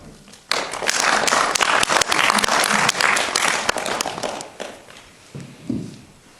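Audience at a colloquium in Boussac breaks into loud applause for the organisers, a sharp onset of dense clapping that carries for several seconds, then thins out with scattered claps and shuffling.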